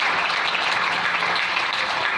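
A church congregation applauds in praise during a service, a steady, dense wash of many hands clapping together, alone and unbroken throughout.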